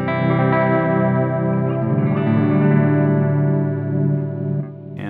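Electric guitar run through the chorus mode of an Xvive V21 Echoman analog delay pedal, a thick shimmering distorted chord ringing out with swirling modulation and echo, loud and continuous before a quick fade.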